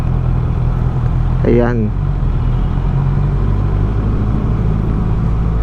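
Honda CB650R motorcycle fitted with a Drift full exhaust, idling with a steady low rumble throughout, while a voice speaks briefly over it.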